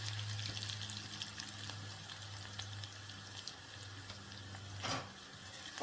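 Garlic frying in a pot of pilau while it is stirred, making a faint, steady sizzling hiss over a low hum, with a brief scraping stir near the end.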